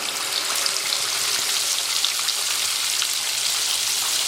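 Ground spice paste and asafoetida hit hot oil in a pan for spicy kat vada, a loud dense hiss and crackle of frying that holds steady throughout, close and uninterrupted by speech.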